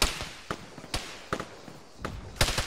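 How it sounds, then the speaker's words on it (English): Explosions and impacts in a military shooter game, sharp booming hits recurring roughly every half second, with a heavier cluster near the end over a quiet background. "Apparently you're beside that explosion."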